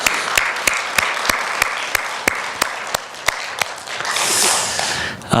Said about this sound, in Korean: 우리 하나님께 영광의 박수로 감사하겠습니다.